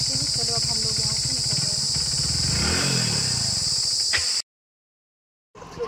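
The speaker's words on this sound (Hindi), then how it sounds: "हम बाइक से जा रहे हैं" A motorcycle rides along a road with a steady engine drone and wind rush, ending abruptly in silence before faint noise returns.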